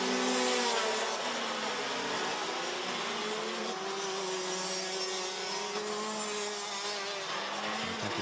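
Rotax Max racing karts at Pro Kart Raceland drone through the turns with a steady high engine whine that shifts pitch as they sweep through the corners, fairly loud and continuous with no voices.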